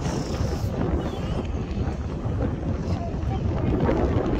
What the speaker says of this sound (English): It is very windy and very cold.